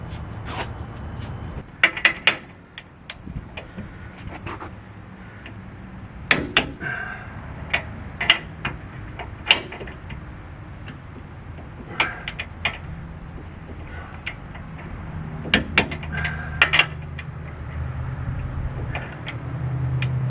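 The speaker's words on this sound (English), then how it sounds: "start tightening down these U-bolts and getting this thing cinched up tight" Wrench tightening U-bolts on a leaf spring during an Astro XHD leaf spring upgrade, heard as scattered sharp metallic clicks and clanks over a steady low background rumble, close and without talk, across about twenty seconds.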